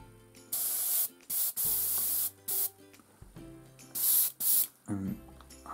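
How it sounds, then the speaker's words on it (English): Airbrush spraying black paint mixed with a little stone colour through a flat wet wipe to create a marble effect, heard as several short bursts of loud airy hiss separated by brief pauses, with no talking. "hopefully I won't blow the sheet away with the airbrush"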